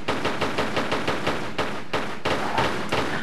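Rapid gunfire from Lara's pistols in the game Tomb Raider III, a fast, loud, steady string of shots repeating for a few seconds with no pauses.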